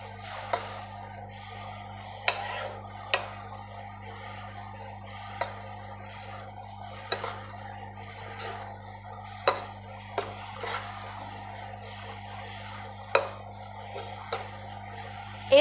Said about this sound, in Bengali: এইভাবে নাড়তে থাকবো।